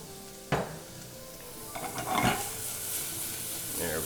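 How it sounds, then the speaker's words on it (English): 35% cream and garlic simmer in a pan, giving a soft, steady sizzle with a metallic clink of a utensil against the pan and a few light stirring sounds, close and fairly quiet. "And let that simmer down."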